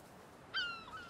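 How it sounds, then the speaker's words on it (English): Laughing gull calls in the video game A Plague Tale Requiem: a single bright, harmonic squawking call rises suddenly midway and trails off, with a fainter echoing note after, over a low seaside ambience. "We call them laughing gulls here."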